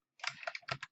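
Rapid keystrokes on a computer keyboard while entering a formula into an Excel spreadsheet, a short burst of about six close clicks in uneven rhythm with no talking.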